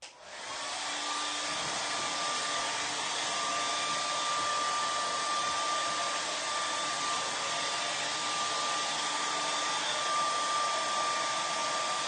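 A hair dryer runs steadily and loudly for the whole stretch, a constant whooshing drone with a faint whine, used to dry coats of paint on a craft piece before applying a transfer.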